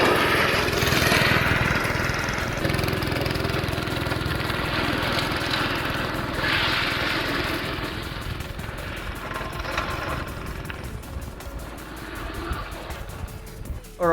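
A budget drift trike's small motor runs steadily throughout, a buzzy mower-like drone that swells and eases as it moves, with no talk.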